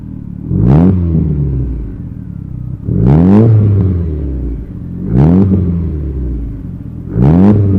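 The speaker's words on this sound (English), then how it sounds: "the next clip is the original exhaust, the old exhaust, just having the throttle blipped." A Mitsubishi Evo on its original exhaust gets four throttle blips at even intervals, each a loud, close rev that flares sharply and then falls back to a deep idle rumble.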